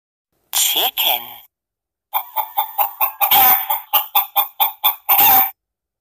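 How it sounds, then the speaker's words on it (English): A chicken clucks in quick bursts, first two short calls, then a rapid run of loud, close clucks after a pause. "Chicken."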